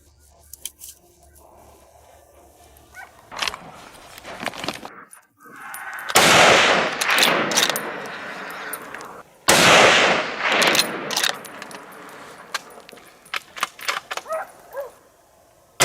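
Hunting dogs bark in loud, repeated bursts during a wild boar hunt, sharp calls clustering mid-clip over rustling field noise, with sudden blasts that could be gunfire mixed among the barks.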